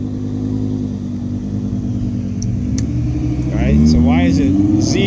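An Audi R8 sports car pulls up nearby with a low engine rumble that swells, its revs rising toward the end, as a person talks over it.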